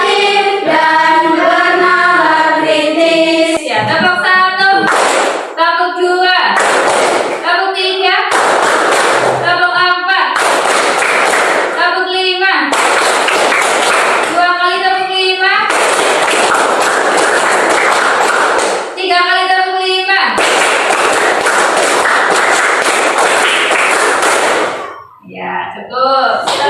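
Elementary schoolchildren in a classroom clap in a patterned rhythm, loud sharp claps in groups separated by brief pauses, mixed with children's chanting voices throughout.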